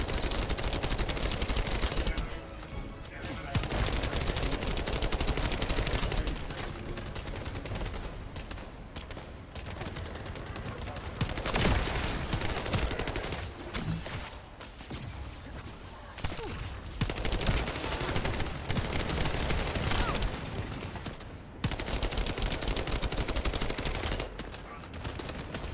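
Near-continuous automatic gunfire from The First Descendant, dense and loud, rattles across the whole stretch with only brief pauses between bursts.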